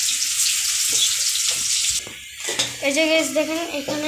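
Onion pieces dropped into hot oil with bay leaves in a pan give a steady broadband sizzle, and a voice talks over it partway through.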